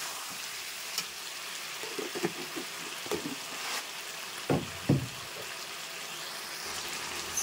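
Food frying in a pan as salt and turmeric are stirred in, a low sizzle broken by several scraping and knocking strokes of the spoon, two louder scrapes in the middle, without speech.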